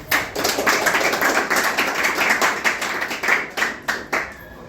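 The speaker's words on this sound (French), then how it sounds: "Applaudissements." A small gathering at a philosophy celebration claps in distinct, quick individual strikes, several pairs of hands clearly separable in an irregular patter that thins into scattered claps near the end.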